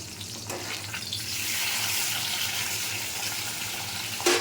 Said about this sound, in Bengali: মাছটা আমি হালকা করে ভেজে নিচ্ছি